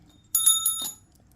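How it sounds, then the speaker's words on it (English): A small bell rings once, a bright, clear chime that fades quickly in an otherwise quiet room. "So let's ring the bell"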